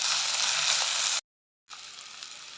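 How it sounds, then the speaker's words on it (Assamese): Curry leaves fry in hot oil with a loud, steady sizzle that cuts out briefly to silence, then resumes slightly quieter, for a ghuguni dish. "নৰসিংহৰ পাত বৰ ধুনীয়া গোন্ধাব ভালদৰে ভাজিম"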